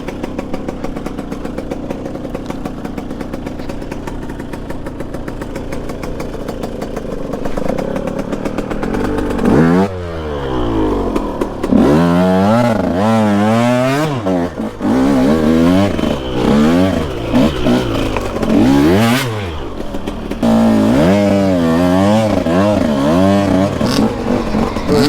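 Enduro dirt bike ridden along wet, puddled trails: a steady engine drone at first, then repeated loud revving surges that rise and fall as the rider works the throttle, close and continuous throughout.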